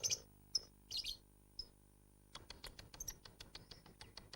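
Sharp, high lovebird chirps in short bursts, then a rapid run of quicker chirping and scratchy tweets, close and fairly quiet.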